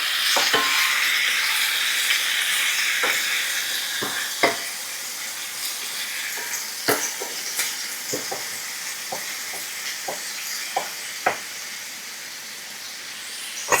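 Tomatoes and eggs sizzle steadily in a hot pan while a utensil scrapes and taps the pan in scattered strokes, a close, continuous frying hiss with no talking.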